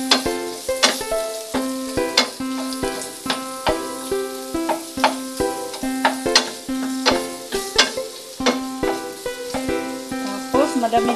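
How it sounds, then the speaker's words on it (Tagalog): Food sautéing in a pan for pork binagoongan, with a run of sharp, ringing utensil strikes and scrapes against the metal over a low sizzle, close and fairly loud, and a voice in the background. "Ayan, nagigisa ang inyong mother."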